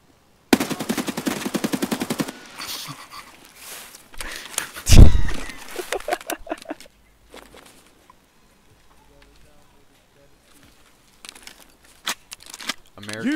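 Rapid automatic gunfire in the shooter game Escape from Tarkov, a loud close burst followed by single heavy shots, then quiet stretches and a few later bursts, with talking between.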